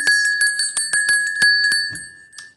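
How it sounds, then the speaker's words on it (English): Small decorative jingle bells of the kind used to deck church halls ring in a quick series of about a dozen bright, close strikes, each leaving a clear sustained shimmer before the shaking slows and fades. "These are little bells."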